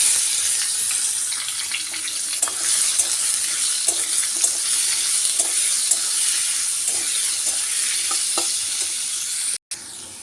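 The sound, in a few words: frying potatoes and onions with spices in a wok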